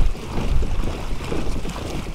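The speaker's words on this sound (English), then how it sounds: "And we're going into the wind" Steady wind buffets the microphone while an Old Town Salty PDL pedal kayak pushes into a headwind on open water, a continuous low rushing roar with faint water movement.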